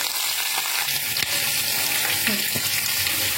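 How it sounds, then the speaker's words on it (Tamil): Steady sizzling and crackling of food frying in oil in a pan, with a few scrapes from stirring, close and fairly loud. "கறிக்கு இதை வதங்குது"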